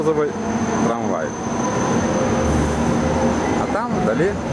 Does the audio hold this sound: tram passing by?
yes